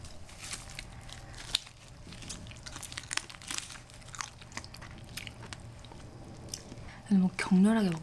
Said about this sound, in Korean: 뭐 격렬하게 먹다 보니까 장갑까지 뜯어 먹을 뻔했어요